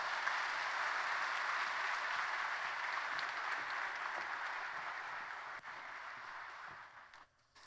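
A church congregation at a Korean Sunday service claps for newly baptized members, a soft, distant, continuous roll of applause that holds steady and then fades out near the end.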